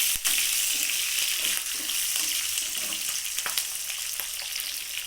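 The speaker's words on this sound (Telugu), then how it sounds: "పచ్చిమిరపకాయలు బాగా దోరగా వేగనివ్వాలండి." Green chilli pieces fry in hot tempering oil for a tomato and coriander roti pachadi, giving a steady, close, hissing sizzle with occasional sharp pops and stirring sounds throughout.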